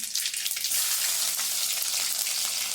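Garlic dropped into hot oil already crackling with mustard seeds, a steady close hiss of frying with light bubbling throughout and no voices.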